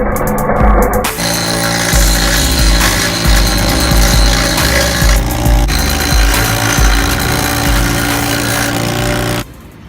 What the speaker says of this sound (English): we just kind of grinded that down a little bit, and the same on each end